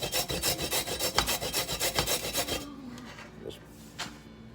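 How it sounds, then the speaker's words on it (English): Vegetables for coleslaw are rubbed back and forth on a hand grater in quick rhythmic scraping strokes for a couple of seconds, close up, then stop, leaving faint handling noises. "Here's my grater. And just going to rub these back and forth."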